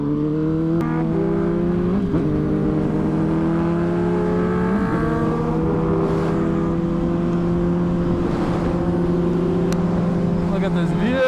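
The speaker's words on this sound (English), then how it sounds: "This bike sounds so good." Motorcycle fitted with new carbon fiber wheels, its engine droning steadily at a constant pitch while riding, with small shifts in tone and some wind rumble underneath.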